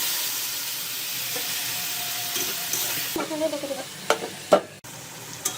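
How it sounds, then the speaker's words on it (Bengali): Ground turmeric, chili and coriander stir-fried in a pan for an eggplant curry sizzle steadily at first, then give way to scattered clinks and scrapes of stirring, close and moderately loud. "মশলাটা কষানো হয়ে গেছে।"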